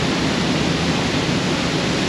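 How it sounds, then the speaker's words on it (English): Waterfall on the Thurweg hike, a dense steady roar of rushing water, loud and unbroken, with no voices. "That is the waterfall."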